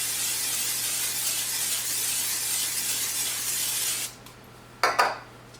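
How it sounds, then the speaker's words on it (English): Cooking oil spray hissing steadily onto turkey kielbasa and diced potatoes in an air fryer basket, a continuous close spray lasting about four seconds, then a few short clatters and a brief second burst. "So we're going to spray it, season it up, probably spray it again, season it up again"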